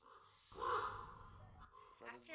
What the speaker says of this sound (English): I don't like the sound of that bird.